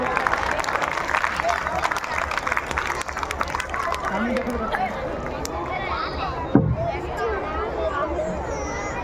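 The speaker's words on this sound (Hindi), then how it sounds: "एक और बार जोरदार तालियां इन बच्चों के लिए हो जाएं" Loud applause for schoolchildren at a school assembly, dense clapping fading into crowd murmur and chatter over about nine seconds, with one sharp knock near the end.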